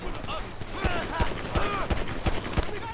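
Gunfire in Grand Theft Auto V while Franklin scores headshots: a loud, rapid string of sharp shots with ringing echoes over about three seconds, with faint background talk.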